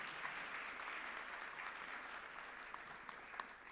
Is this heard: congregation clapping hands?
yes